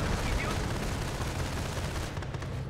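Dense, continuous artillery barrage rumble and gunfire from a Company of Heroes battle, with a heavy low-end roar and overlapping blasts throughout, a game voice heard briefly.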